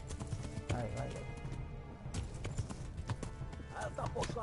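Horse hooves clip-clop at a gallop in Kingdom Come: Deliverance during a chase, a steady close rhythm with a brief whinny, under a man's excited speech.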